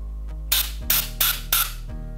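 Three quick hissing bursts of aerosol cleaner sprayed onto pistol components, close and loud, each lasting a fraction of a second over a steady low hum.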